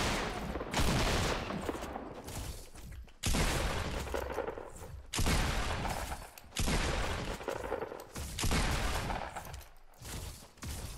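Rapid bursts of gunfire from the video game Fortnite, with shotgun blasts among them, come in dense, loud volleys separated by short gaps and continue throughout with no talk.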